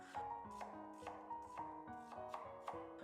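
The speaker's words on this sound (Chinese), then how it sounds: "再来准备半个昨天吃剩下的洋葱，给它切成细细的洋葱丝" A knife slices half a leftover onion into thin strips on a cutting board, with crisp, evenly spaced chops about every half second over a soft background tone.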